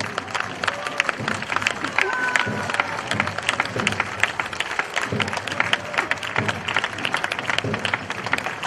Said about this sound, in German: Geben Sie nochmal einen kräftigen Applaus für unsere Ritterin.